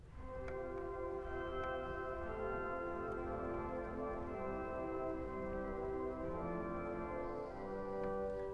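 Concert flute 8-foot and 4-foot stops sounding together on a concert hall pipe organ, a flowing phrase of sustained, overlapping notes, full and steady, with faint clicks of the key action.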